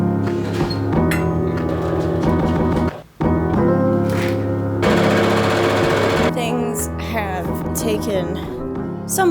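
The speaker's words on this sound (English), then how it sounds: "desperately attempting to sew the interfacing and the collar together to the bodice" A sewing machine stitching interfacing and a collar onto a cosplay bodice, running in steady rapid bursts with a brief pause midway; loud, close, mechanical hammering, with voices faintly present.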